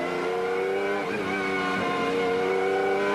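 Lotus Esprit 300 LM GT race car heard on board through a chicane at Silverstone during a 1995 BPR Global GT race, its engine a loud continuous harmonic drone with brief dips and re-rises in pitch as it brakes and accelerates.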